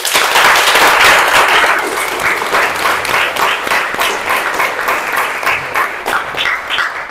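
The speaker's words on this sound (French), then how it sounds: "on applaudit alors" Loud, dense applause from a crowd at a French celebration of exam results, continuous and energetic for about seven seconds with no talking over it.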